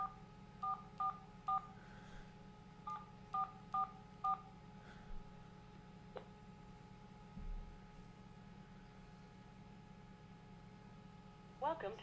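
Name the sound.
telephone dialing tones opening a phone line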